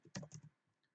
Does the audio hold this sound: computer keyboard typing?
yes